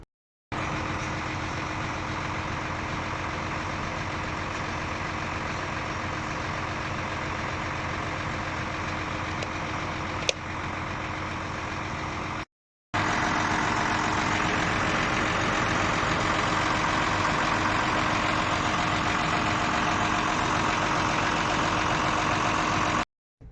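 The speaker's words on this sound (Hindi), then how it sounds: "न्यूट्रल करेंगे, गाड़ी स्टार्ट करेंगे। गाड़ी स्टार्ट हो गई" A truck engine, recently repaired after a worn-out clutch, runs at a steady idle, a loud continuous mechanical drone that cuts out briefly midway and then resumes a bit stronger.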